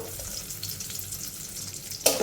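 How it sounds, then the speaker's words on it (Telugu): Crushed garlic cloves, unpeeled and roughly pounded, frying lightly in leftover oil in a pan, a steady close sizzle with no talk, ending in a brief louder clatter. "లైట్గా ఈ వెల్లుల్లి వేగనివ్వాలి"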